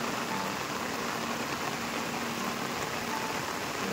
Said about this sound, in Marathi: जोरात पाऊस लागता